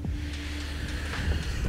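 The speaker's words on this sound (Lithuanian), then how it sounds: "vėjas nemažas, dar vis laikosi, tai jūra jaučiu irgi visai smagiai ošia" Strong wind gusts roar steadily on an open seashore during a kayak trip, with the sea churning beneath as a continuous broadband rush; no voices.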